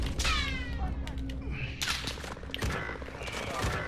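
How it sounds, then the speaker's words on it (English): Gunfire in Call of Duty: Modern Warfare, a mix of sharp bursts and scattered shots spread across the clip, loud and close, with a voice talking in between. "Taking fire. Under hostile fire."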